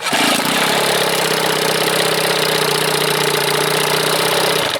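A warmed-up 1976 Evinrude 25 hp outboard motor catches and settles into a loud, steady low idle with a throbbing, slightly knocking rumble, close and continuous with no talk.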